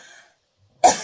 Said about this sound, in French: Et j'ai dû tousser un petit peu.